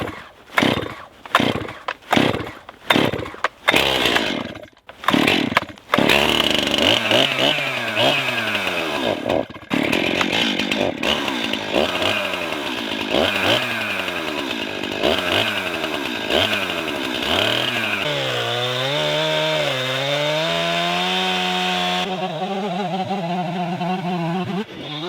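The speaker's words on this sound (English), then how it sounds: "you can do it with a chainsaw. It does make a nice, well, pretty smooth cut." A chainsaw revs in several short bursts, then settles into a long, loud, steady cut through a maple log, its pitch wavering as it bites through the wood.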